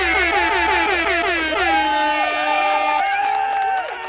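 A loud, sustained air horn blast plays as a sound effect during a livestream donation shoutout, holding steady for about four seconds with pitch wavering partway through before cutting off.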